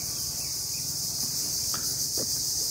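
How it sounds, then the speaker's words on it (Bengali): Crickets trill steadily from village trees on an afternoon, a dense continuous buzz with a couple of faint bird calls over it in the middle distance. "এই দুপুরের পরের এই সময়টায় শুধুমাত্র ঝিঝি পোকার কোলাহল চতুর্দিকে"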